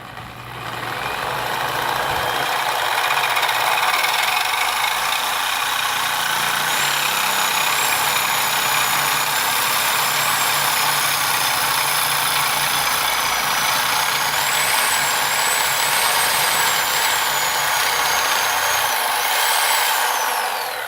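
Dremel rotary tool making a straight cut in a modified Dremel 220-10 workstation, giving a loud, steady, high-pitched whine that runs close and unbroken for about twenty seconds.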